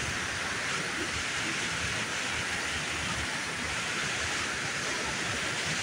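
A river running heavy after recent high water rushes past close by in a loud, steady, dense roar of churning water that fills the whole stretch without a break.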